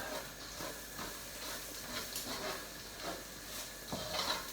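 Garlic sizzles in a pan for lasagne, a soft, steady hiss with faint scraping stirs rising now and then, quiet and without talk.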